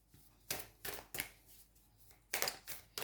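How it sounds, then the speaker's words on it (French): Oracle cards from a lunology deck being handled and drawn, a run of quiet papery flicks and slides in short bursts with brief pauses between them, close by and without talk. "on va aller prendre une carte du lunologie"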